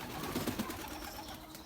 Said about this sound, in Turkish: Şöyle çok güzel güvercinler var.